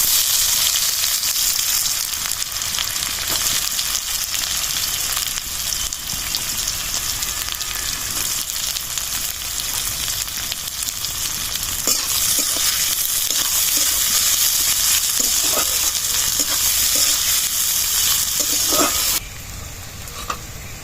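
Chopped onion, dried chili, bay leaf and whole cumin frying in hot oil for a fish curry, a loud, dense, steady sizzle that keeps going without a break, with faint crackles and the occasional stir, no voices.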